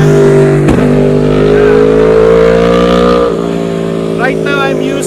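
Road vehicles passing a roadside field, picked up by a DSLR camera's internal microphone: a loud, steady engine drone with a rising and falling tone throughout, the traffic noise close and dominant.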